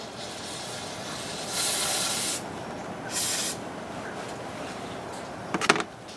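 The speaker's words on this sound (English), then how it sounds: "So I'm going to take my carb cleaner, rub it down a little bit." Carb cleaner sprayed from an aerosol can onto a Homelite chainsaw carburetor during a rebuild: two short hissing bursts of spray, followed near the end by a couple of small clicks and taps from handling the part.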